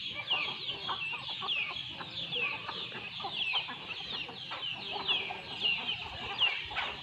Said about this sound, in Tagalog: Yung mga chicken na makukulit.